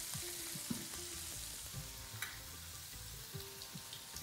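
Mushrooms, capsicum and onion stir-fried with sauces in a pan for hoisin cashew chicken, a steady close sizzle with light scraping and stirring clicks throughout, no talking.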